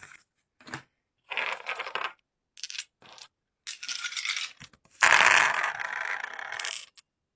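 Dice rattling and clattering as they are shaken and rolled, several short bursts of hard plastic clicks followed by a longer, louder tumbling roll, close by with no voices.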